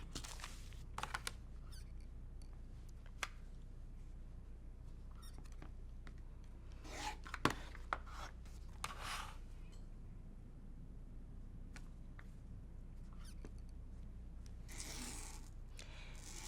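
A quilt block gets cut apart along solid lines, with faint, sparse snips and light scraping clicks scattered across a quiet, steady room hum, a few brief louder ticks standing out.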